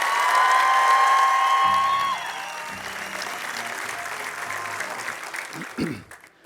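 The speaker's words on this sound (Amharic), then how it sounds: "እስቲ በደንብ አጨብጭቡለት ለዳዊት" An audience applauds for Dawit at a motivational talk, dense close clapping that fades after about two seconds into scattered claps and low crowd murmur.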